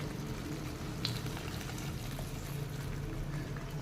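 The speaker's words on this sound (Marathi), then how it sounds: "ते गरम पाणी आता आपण याच्यामध्ये घालायचं आहे" Hot water pours steadily into a pot of Khandeshi amti curry, a continuous low liquid gurgle and splash with no talking.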